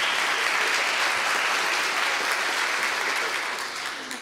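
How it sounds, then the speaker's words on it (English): A gathered audience gives a warm, continuous round of applause. Many hands clap in a thick, even wash at a fairly loud level before it tapers off at the very end, with no voices over it. "I love that you applause a lot"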